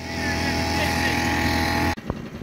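New Tohatsu 6hp outboard motor running on a Pelican Predator boat on a river, a close, loud steady drone that drops away abruptly near the end.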